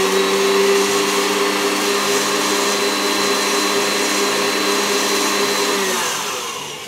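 An electric mixer whisks pink paste colouring into Italian meringue buttercream, a loud steady motor whine with a constant hum that fades slightly at the very end, with no talking.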